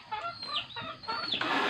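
Chickens clucking close by, a few short squawking calls in quick succession with no talking.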